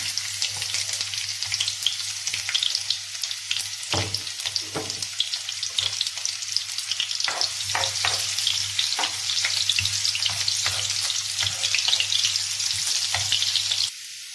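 Garlic and onion frying in hot olive oil, giving a steady, close sizzle that runs throughout with occasional stirring clicks and scrapes.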